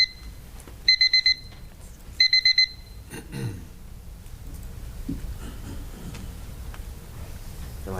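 A meeting timer alarm beeps in two quick bursts of rapid electronic tones, followed by room noise and shuffling in a city council chamber.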